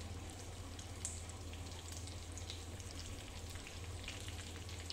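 Thick green chillies stuffed with potato frying under a lid in a pan, a faint, steady crackling sizzle with soft pops and no voices.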